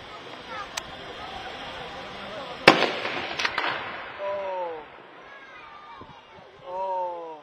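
Sniper rifle shots ring out outdoors, one sharp loud crack followed by a few quicker reports, with shouting voices and people speaking around them.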